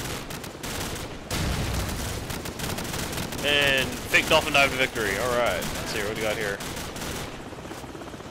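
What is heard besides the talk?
gunfire in video game Call of Duty 4: Modern Warfare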